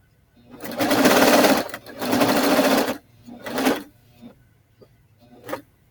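A serger sewing machine stitches along a blanket in two long bursts of fast, steady whirring, then shorter runs and brief stops, close and fairly loud.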